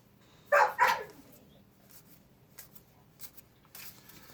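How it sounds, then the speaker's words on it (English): A dog gives two loud, close barks in quick succession beside people opening Pokemon card packs indoors, followed by faint shuffling and handling noises. "My dog Sasha offering her commentary on the state of Pokemon."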